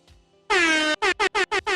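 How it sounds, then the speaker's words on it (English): One long blaring air horn blast followed by a rapid series of five short, loud honks. "the sound, the air horn."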